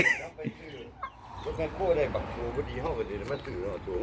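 Chickens cluck in short bursts amid outdoor background noise, with people talking over them throughout.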